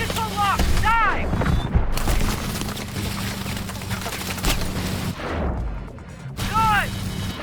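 Missile explosions and combat roar in Call of Duty: Advanced Warfare, a dense, loud continuous wash of blasts and rumble with sharp impacts throughout, brief warning tones and shouted voices over the din.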